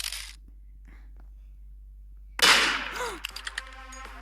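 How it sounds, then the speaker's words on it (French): Gunfire in the Roblox game Murder Mystery 2, a shot fired at the floor: one sharp loud burst with a ringing tail, followed by a run of quick clicking game sounds, after a near-silent stretch. "je tire le sol"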